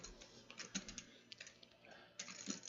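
A poker player shuffles chips or cards at a cash-game table, producing rapid, light clicking taps in quick bursts, moderately close with faint room noise behind.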